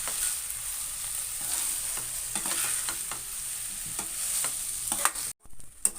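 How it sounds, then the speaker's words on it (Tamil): Cooled cooked rice for vegetable fried rice is stirred in a hot pan. A steady sizzle sits under soft, repeated scrapes and taps of the spoon, then drops out briefly near the end. "இப்போ லைட்டாக இதை நம்ம வந்து கிளறி விடுவோம்"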